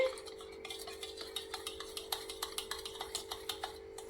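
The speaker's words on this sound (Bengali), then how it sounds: "সয়া সস নিয়ে নিলাম চিলি সস নিয়ে নিলাম এবার আমি একটু মিক্স করে নিচ্ছি" Soy sauce and chili sauce being mixed in a bowl, with a spoon clicking and scraping against the sides in a quick, regular rhythm, faint and close, over a steady low hum.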